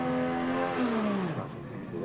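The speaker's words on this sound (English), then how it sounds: "Big burnout there for Jeff." Drag race car doing a big burnout at a Jap drag series street car event, a loud sustained engine roar that drops in pitch, heard over a commentator talking.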